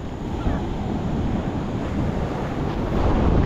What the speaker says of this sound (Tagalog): Masyadong malikot ang alon.